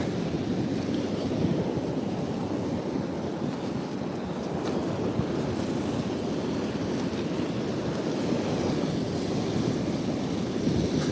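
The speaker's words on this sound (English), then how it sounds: "Oh, we got some pretty good waves." Ocean waves breaking on a foggy shore, a continuous loud roar of surf mixed with wind buffeting the microphone, steady throughout with no talking.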